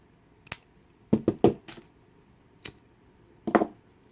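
Scissors snipping through string while making a chain kandi bead bracelet, a few short crisp clicks spaced irregularly, close and quiet with no talking.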